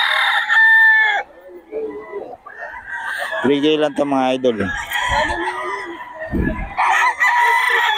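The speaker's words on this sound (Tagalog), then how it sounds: "Magulo itong manok na to." A rooster crows loudly and close while chickens cluck nearby at a poultry spot, the crow rising and falling in the middle, mixed with someone talking before and after.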